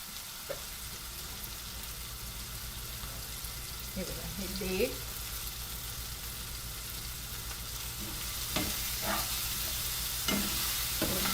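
Onions fry in a pan with a date paste being added for a Marathi padval bhaji, a steady low sizzle with a few spoon scrapes and stirring knocks, close by and without voices.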